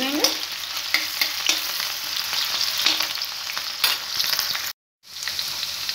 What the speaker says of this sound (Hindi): हरी मिर्च डालेंगे, अब इन तीनों चीजों को अच्छे से भूनेंगे।